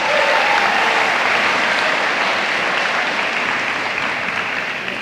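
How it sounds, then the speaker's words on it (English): Loud, sustained audience applause at a high school football banquet, a dense wash of clapping that holds steady for several seconds. "We can give him a round of applause"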